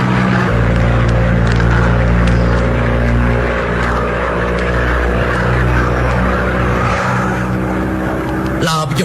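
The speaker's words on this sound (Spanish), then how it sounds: "La avioneta se cimbraba como si fuera a estallar en pedazos." A small propeller plane drones steadily while climbing, the engine's loud, constant hum filling the whole stretch without letup, a dramatized sound effect with a faint voice murmuring underneath.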